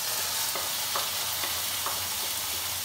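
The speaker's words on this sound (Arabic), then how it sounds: "ندوز دابا نشحروا الدجاج مفروم" Minced chicken, seasoned and already oiled, frying and being stirred in a pan, with a steady close sizzle and periodic scraping strokes of a utensil, no voices.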